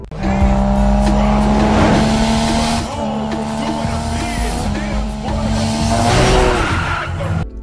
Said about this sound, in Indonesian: ia pun setuju dengan tawaran Tez dan langsung bergegas ke lokasi balapan dengan mobil Nissan Skyline-nya.